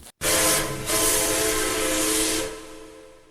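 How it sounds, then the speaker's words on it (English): A steam locomotive whistle sounds loud and close, a sustained breathy tone lasting over two seconds, then cuts off into silence. "he heard a familiar whistle"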